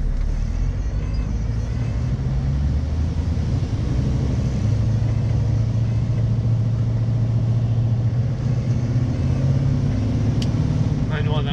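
Cars pass on a road heard from a truck, a constant loud engine rumble with a passing vehicle swelling through the middle, wind noise steady throughout.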